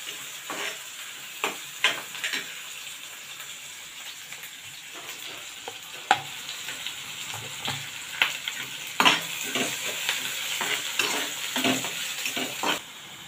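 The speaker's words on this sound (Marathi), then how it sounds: "दोन मिनिटं चांगलं परतून घेऊया." Ingredients sautéing in a pan, close up: a steady hiss of frying with irregular scraping clicks from stirring throughout. No one speaks.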